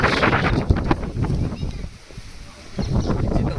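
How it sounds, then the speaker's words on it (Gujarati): Strong summer storm wind gusts and rushing air roar close by near the seashore in a Gujarat village, with a steady hiss of heavy rain; a voice speaks intermittently over the stormy noise. "જો આપો પવન આમલે ફૂંકાય છે મસ્તીનો અને વરસાદ કેટલો અંધારો"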